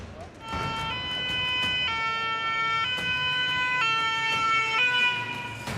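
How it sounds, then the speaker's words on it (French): A fire engine siren wails as the firefighters arrive at a blaze, a loud steady two-tone pattern switching pitch roughly every second, close by over a low rumble of traffic and activity. "Là, il y a les pompiers qui arrivent par contre."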